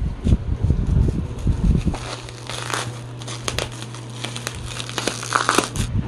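A cardboard box holding a Bestway air bed is pried open, with loud crinkling, tearing and scraping of cardboard up close, over a steady low hum in the room.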